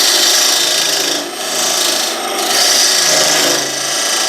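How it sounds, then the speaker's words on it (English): A dull cutting tool on a Grizzly G0733 wood lathe scrapes Arizona ash into sawdust with a loud, continuous rasping hiss that dips briefly twice. No voices are heard. "See how it starts making sawdust before you got to push it really hard to get wood chips."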